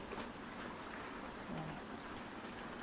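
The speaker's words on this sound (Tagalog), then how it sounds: "Ipit na naman tayo sa ulan." Rain falls outside a house as a steady, soft hiss of drops, faint and continuous with no voices.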